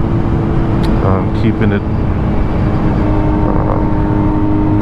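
A Kawasaki Z900 motorcycle with a Mivv exhaust cruises in sixth gear, a loud steady engine drone with wind rush, while a rider talks briefly over it.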